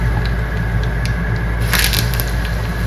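Cumin and mustard seeds crackling in hot ghee, a close, steady sizzle with scattered sharp pops and a brief denser burst of crackles partway through, heard alone without speech.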